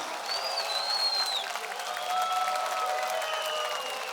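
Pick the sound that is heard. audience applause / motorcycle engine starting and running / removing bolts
audience applause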